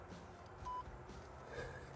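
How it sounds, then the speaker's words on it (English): An MFJ antenna tuner gives a short, faint electronic beep over a low background hum, with a second fainter tone shortly after. "So one beep should be bypass."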